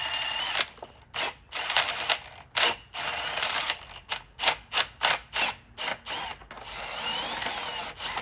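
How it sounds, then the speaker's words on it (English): A power drill whirs in a series of short bursts with brief pauses, then runs steadily near the end, close and loud, with grinding against metal as it drills into the lock of an EST-2 fire alarm panel. "You gotta test that they can't just drill the lock out."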